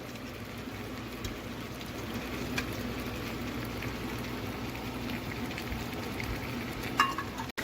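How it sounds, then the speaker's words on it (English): Beef simmers in orange juice as it reduces, giving a soft, steady bubbling hiss with faint occasional stirring, low and even throughout with no talk. "you want to cook it until the orange juice is reduced"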